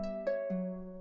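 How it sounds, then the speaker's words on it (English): Sampled harp from the Elysium Harp virtual instrument by Sound Iron, used in an R&B beat, plays three sustained plucked notes in slow succession, each ringing on with a clean, bright decay and no voices. "Elysium Harp by Sound Iron"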